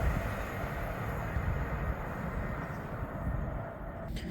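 A Class 390 Pendolino on an Avanti West Coast service from Liverpool Lime Street to London Euston rumbles past at Berkhamsted with a steady, broad roar that holds for several seconds and eases slightly near the end.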